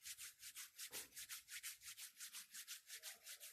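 Hands rubbed briskly together close up, a steady run of about twenty swishing strokes in an even back-and-forth rhythm, heard alone without talk.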